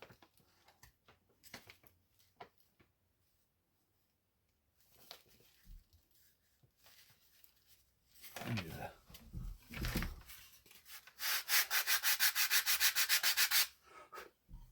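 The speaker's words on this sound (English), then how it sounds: "A little bit of sandpaper goes a long ways." Sandpaper rubbing on a model aircraft part during a stabilizer and rudder build, scattered light scrapes early, then a run of fast, even back-and-forth sanding strokes, close and clear.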